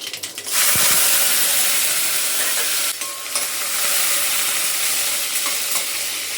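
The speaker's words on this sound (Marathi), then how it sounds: "हे लसूण, कोकम, मिरची, कढीपत्ता सगळं एकत्र टाकून देणार आहेत" Garlic, kokum, green chili, curry leaves, mustard seeds and cumin crackling in hot oil, a loud, steady sizzle that starts abruptly and continues without pause, with a faint stir or scrape partway through.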